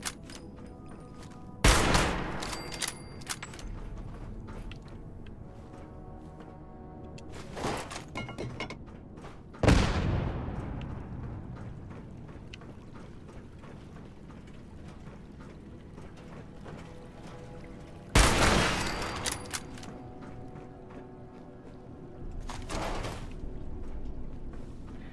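Gunfire in the video game Fallout 76, a few sharp, loud shots spaced seconds apart, each with a ringing decay, alongside mechanical clicks and clatter of weapon handling over steady game ambience.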